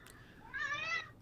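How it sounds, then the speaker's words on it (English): A single cat gives one clear, rising-and-falling meow, fairly close and alone against a quiet background. "Really sorry about the cats"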